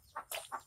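A chicken in a village gives three short, soft clucks in quick succession. They are faint and close together, with no voices.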